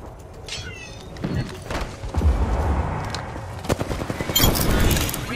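Gunfire in a battle royale shooter, bursts of rapid shots with booming impacts, loud and close, continuing through most of the clip amid other game effects.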